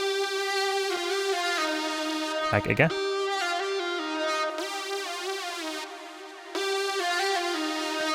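Thick layered Serum synth preset with unison, a high-pass filter, delay and EQ, sustaining bright harmonic chords loudly with a brief spoken interjection midway.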